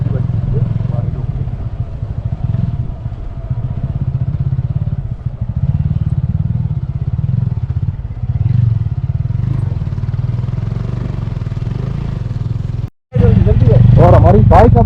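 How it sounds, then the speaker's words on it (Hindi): A motorcycle engine running steadily after being restarted on a mountain road on the way to Kailash Mansarovar, a continuous loud rumble with clattering, briefly cutting out near the end before returning. "और हमारी बाइक अब स्टार्ट हो चुकी है"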